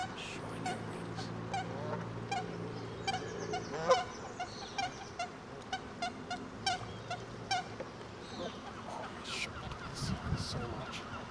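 Geese honk repeatedly in short, sharp calls spread across the scene, some near and some farther off, over a steady outdoor background with a faint low hum.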